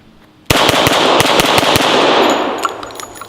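A Colt M1911 pistol is fired in a fast string of about seven loud, sharp shots over roughly a second, followed by a ringing echo that fades away.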